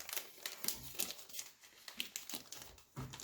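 Close, quiet crinkling and rustling as gift wrapping paper is folded down along an edge, with several sharp crisp crackles in short uneven bursts.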